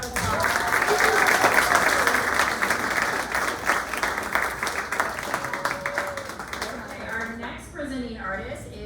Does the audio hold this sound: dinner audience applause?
yes